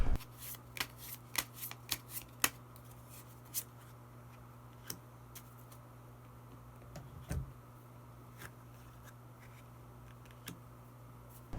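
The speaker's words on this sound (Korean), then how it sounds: "끝으로 히든 카드 한 장 더 뽑아보도록 하겠습니다" Tarot cards being shuffled and a card drawn, a quiet run of crisp riffling flicks near the start, then scattered single card slides and taps over a low steady room hum.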